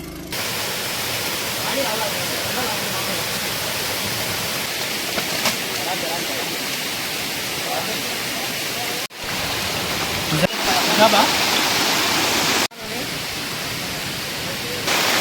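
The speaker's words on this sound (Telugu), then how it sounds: "ఇక్కడ పెద్ద వాటర్ ఫాల్ ఉంది చూడండి" Steady broadband rushing water from a large waterfall in the forest near Udayagiri fort, continuous throughout with brief dropouts near the end and occasional faint voices underneath.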